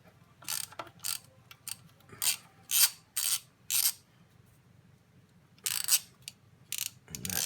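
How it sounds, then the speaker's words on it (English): Ratchet working on the tensioner bolt of a 1994-2004 Honda Odyssey 3.5 engine, giving short bursts of rapid clicking separated by pauses, fairly close and alone with no talk. "I can loosen up this tensioner bolt here, or tighten one of the two"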